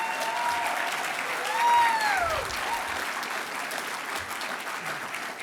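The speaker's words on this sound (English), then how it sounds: "Can we all give a round of applause for the families and the new hires?" A crowd applauding families and new hires at a US Navy signing day event in Philadelphia, sustained dense clapping throughout with a whistle-like tone briefly rising over it, no speech.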